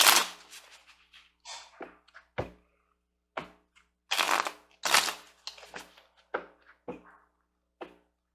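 Tarot cards being shuffled and drawn in a quiet room: a series of close, crisp riffling bursts and sharp snapping flicks separated by short pauses, loud at first and then intermittent.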